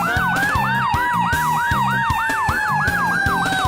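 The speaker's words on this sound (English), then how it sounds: "With bright flashing lights and loud sirens, it's exciting to watch a fire truck whiz past." A fire truck siren wails loudly and continuously in a fast repeating yelp, with a lower honking horn pulsing beneath it, close and steady throughout.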